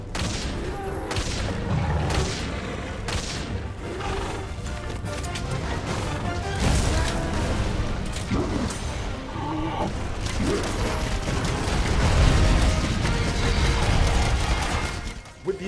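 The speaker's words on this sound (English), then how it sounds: "The rock-steady mantle allows our hunter to keep a steady hand whilst firing at the monster." Rapid gunfire and impacts from a hunter firing at a monster in Monster Hunter World's Ancient Forest, dense repeated bursts mixed with crashes and game music.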